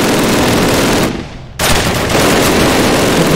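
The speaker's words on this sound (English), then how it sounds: "Get me the machine gun." Machine gun fire in Call of Duty 1 during the Operation Pegasus mission, a loud continuous burst that breaks off for about half a second and then resumes at full volume, with no talk.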